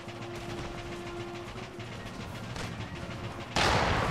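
Musket volleys in Empire Total War, a battlefield roar of distant, overlapping gunfire rumbling continuously, ending in a sudden louder burst of firing.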